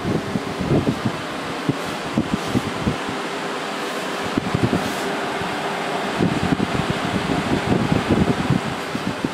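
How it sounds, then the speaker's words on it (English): An Inventor 8000 BTU portable air conditioner runs close by with a steady, broad rush of blown air over a low hum, broken by scattered soft thumps, and no talking. "it's actually an air conditioner. It's not an air cooler or a fan, it's actually conditioning this air to be cold"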